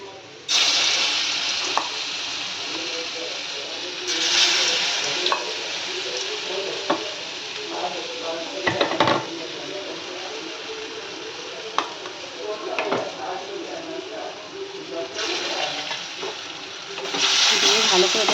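A spice paste fries in hot oil in a kadai while being stirred, a loud, close, continuous sizzle with scraping strokes and bursts of hiss that swell at intervals.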